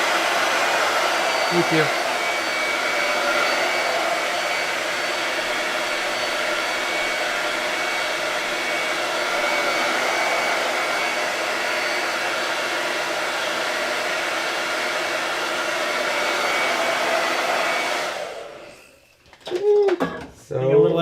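A hair dryer on its cold setting blows steadily over chalk paste, a loud continuous whoosh that runs for most of the clip, then cuts off and is followed by brief speech.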